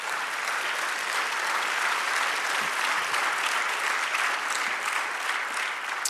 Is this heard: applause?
yes